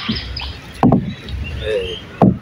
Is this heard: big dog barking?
no